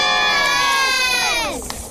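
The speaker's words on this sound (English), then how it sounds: "Are you going to cheer for Lord Dispenser" A crowd of many voices cheers together in a sustained loud shout that swells and then tapers off near the end.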